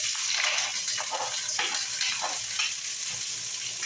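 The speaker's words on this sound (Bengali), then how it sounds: "আমি পেঁয়াজটারে এইভাবে করে ভাজি করে নিচ্ছি, হালকা একটু ভাজি করে নিচ্ছি" Sliced onions frying in oil in a pan, a steady close sizzle with crackling bursts that runs continuously without talk.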